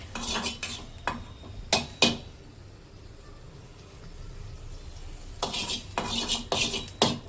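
Coriander seeds and cumin dry-roasting in a pan without oil: clustered bursts of a spatula scraping and rattling the spices against the metal at the start and end, with a faint low hiss in between.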